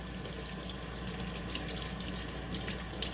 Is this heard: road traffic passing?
no